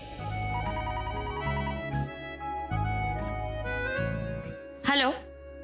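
A landline telephone rings in a Hindi TV serial scene, its bell tone repeating steadily over a musical background, with a louder chirping burst near the end.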